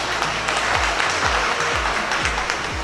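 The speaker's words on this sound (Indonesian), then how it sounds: "Tepuk tangan untuk Indonesia." Audience applause at an Indonesian seminar on SSW job opportunities in Japan: a dense, steady wash of clapping throughout, with low, regular thumps beneath it.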